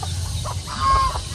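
Chickens and turkeys roosting up in trees at dusk in Madrid de Cacao give soft, scattered clucks, with one drawn-out call in the middle, over a low steady outdoor background.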